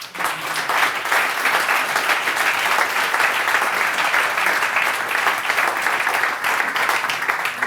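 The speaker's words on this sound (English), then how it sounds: "I can't tell you when we've ever had a whoop before." A crowd applauds steadily for several seconds, with a dense wash of clapping at a constant level and no voices standing out clearly.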